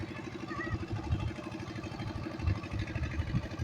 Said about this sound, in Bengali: দেখেন নৌকা যাইতেছে।